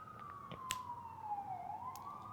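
An emergency vehicle siren wails outside, a faint, distant tone sliding slowly downward and then rising again, with a few soft clicks and knocks nearby.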